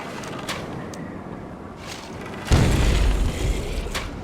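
A heavy grenade blast booms out in the fantasy strategy game Myth: The Wolf Age, a sudden loud low thud that rumbles and fades over a second or so, following quieter background battle noise.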